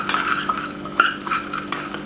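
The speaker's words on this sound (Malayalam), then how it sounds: "ഉപ്പ്, ഇത്രയും ആഡ് ചെയ്തിട്ട് നമുക്കൊന്ന് മിക്സ് ചെയ്യാം" A spoon stirring a garlic cheese dosa mixture with salt in a bowl, quick repeated clinks and scrapes of metal against the bowl in an uneven rhythm, close and clear with no talk.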